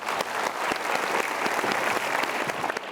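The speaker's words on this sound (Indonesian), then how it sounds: "Berikan tepuk tangan sekali lagi." A studio audience at a motivational talk show gives a guest another round of applause: thick, even clapping holds at a steady level throughout, with no voices over it.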